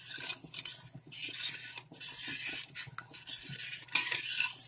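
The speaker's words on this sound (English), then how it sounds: "But you have to stir constantly." Continuous scraping and stirring of a spoon through dissolving sugar in a pot, steady and close with frequent light clinks against the metal, no talking.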